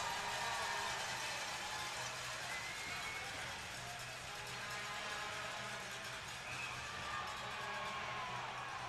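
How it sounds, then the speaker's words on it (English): A hockey arena crowd at a Prowlers versus Thunderbirds playoff game building into cheering and whoops, a broad continuous roar with a commentator talking over it. "And now they're starting to make a little bit of noise."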